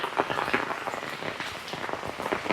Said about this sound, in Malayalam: നല്ല മഴയാണ് കുറയുന്നില്ല